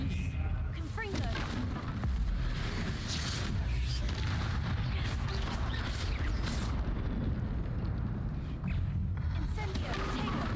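Repeated booming blasts from Confringo fire spells in Hogwarts Legacy, dense and continuous with rumbling low end and crackling bursts, close and loud, amid busy combat noise with a voice speaking over it.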